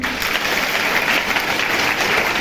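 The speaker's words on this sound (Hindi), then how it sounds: "तो गुड है तो ताली तो बजा सकते हैं।" A room full of schoolchildren claps in a dense, sustained burst of applause that stays loud and even throughout, with no voices standing out above it.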